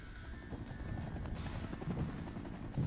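Military helicopters in the war strategy game Regiments, a faint steady rotor thudding with distant battle noise underneath.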